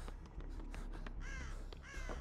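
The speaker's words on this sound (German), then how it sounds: "Was ist das? Oh, ach so. Ein Rabe." Raven cawing in the Dead by Daylight video game: a few harsh, rasping caws close by, the longest coming near the end, over a low ambient game background.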